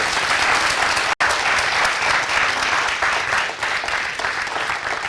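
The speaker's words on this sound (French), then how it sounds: "Acclamation pour lui, s'il vous plaît." Sustained applause from an audience, dense and steady clapping with a brief cut near the start, no voices over it.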